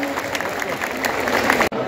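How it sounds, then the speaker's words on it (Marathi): An audience at a conch-blowing performance in Dombivali bursts into clapping, a dense close wash of applause that runs steadily then cuts off abruptly near the end. "एकदा जोरदार टाळ्या होऊन जाऊ दे"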